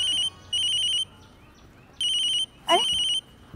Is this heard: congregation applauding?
no